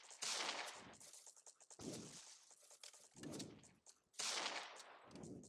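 Rifle gunshots in the video game Ace of Spades: about four loud, sharp blasts, each trailing off in a short decay, spaced roughly a second apart and close up.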